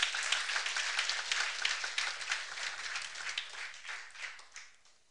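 A church congregation applauds, a full wash of many hands clapping at once that gradually fades out over several seconds.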